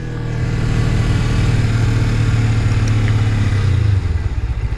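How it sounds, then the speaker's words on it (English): Motorcycle with a manual cable-actuated clutch engine braking downhill in first gear, a steady close low engine drone with a clattering edge that eases off near the end. "Let the engine braking slow us down."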